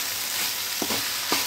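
Moong dal and amaranth leaves sizzle steadily in a pan after coriander goes in, with a couple of short stirring scrapes near the end, close and moderately quiet, no voices.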